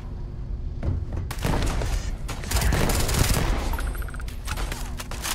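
An AK-47 rifle fires rapid, continuous automatic bursts in the video game Starfield, producing dense, loud cracking gunfire with heavy low thumps throughout.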